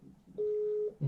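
A steady single-pitch telephone line tone sounds for about half a second over a quiet line while calling a busy UK number, with a short burst of another tone right after.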